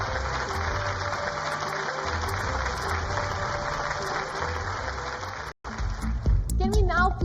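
An awards-event audience applauds a business leader with continuous clapping beneath a loud amplified announcer voice, and the applause cuts off near the end as background noise rises.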